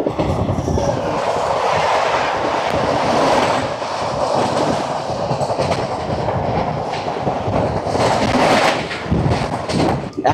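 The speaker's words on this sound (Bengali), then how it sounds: "চলে আসছে ট্রেন নাম্বার 12518" The Paharia Express, train 12518 with an older ICF rake, running at speed, a loud continuous rumble with rhythmic clickety-clack of wheels and a faint metallic squeal, heard from on board.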